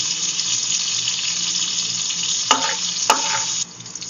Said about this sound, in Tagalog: Bawang. Hintayin na natin mag-golden brown.